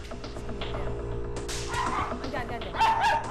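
A dog named Ruby barks and yips in short sharp bursts during a tense household standoff with another dog, while people talk over the commotion and a whimpering note rises at the end.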